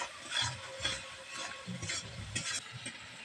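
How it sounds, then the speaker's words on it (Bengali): Spice paste with ketchup stirred and fried in a pan, heard as close, quiet scraping and rubbing strokes of a spoon against the pan in an irregular rhythm over a soft sizzle. "এই মশলাটাকে ভালো করে কষিয়ে নেবো।"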